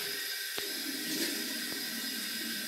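Tap water running steadily into a sink to rinse a two band badger shaving brush, a continuous close hiss with a couple of brief knocks.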